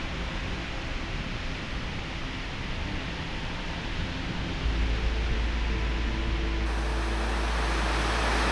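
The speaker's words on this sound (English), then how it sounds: "It was a bit windy and the waves are white." Whitecapped sea waves wash onto a windy shore at sunset, a continuous broad rushing hiss with a deeper rumble of wind buffeting partway through.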